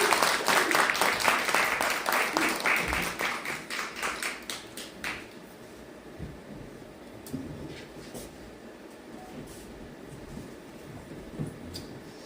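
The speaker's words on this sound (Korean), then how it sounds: "큰 박수로 맞아주시면 감사하겠습니다" At a book concert, the crowd greets a lawmaker coming up to speak with loud clapping in a quick steady rhythm for about five seconds. It then dies away into scattered faint claps and low room noise.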